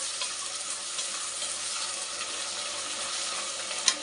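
Onions with salt frying in a pan for a soybean tomato bath, a dense, even hiss of sizzling fat that holds steady throughout, close by with one small clink near the end and no talking.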